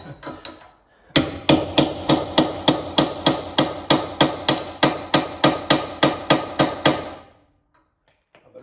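A hammer strikes a chisel to stake a nut on the rear axle of a Peugeot 206 S16, about nineteen hard, evenly spaced metallic blows in quick succession, close and loud, then silence.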